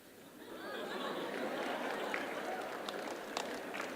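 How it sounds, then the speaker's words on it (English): Teachers and students in an audience at a Delhi interview event break into clapping that swells and holds steady, mixed with crowd chatter and a few sharper individual claps near the end. "Now, on this one, the teachers are clapping more than the students."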